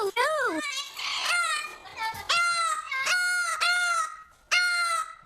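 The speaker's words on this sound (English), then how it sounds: "You could hear Coco calling like he was losing his best friend." An Amazon parrot gives a run of loud, repeated calls indoors, shrill rising and falling cries in short bursts close by, with a voice speaking between them.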